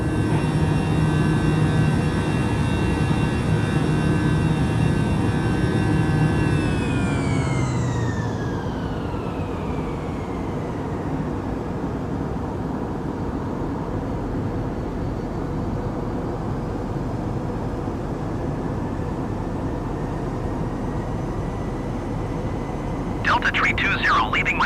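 A Delta Airbus jet departing Philadelphia as heard from the passenger cabin: a steady loud engine roar with a high whine that slides down in pitch and settles into a broad, constant rumble.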